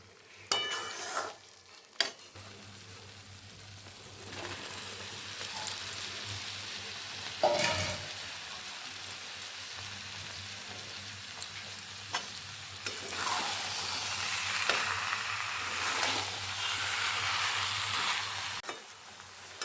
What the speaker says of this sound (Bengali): এখন আমি এর মধ্যে দিয়ে দিয়েছি ফ্যাটানো টমেটো। এখন আমি আরেকটু কষিয়ে নেব।